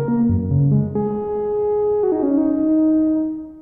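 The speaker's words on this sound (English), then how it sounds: "I've got the Roland SH-101, which is a classic analog mono synth from Roland from the 80s" Roland SH-101 analog mono synth from the 1980s playing a simple patch through reverb and delay, a close, steady line of sustained notes gliding between pitches with a lush wash behind them, no talking.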